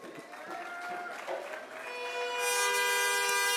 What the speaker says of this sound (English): Homeland Security, Roger Alexander, give him a round of applause.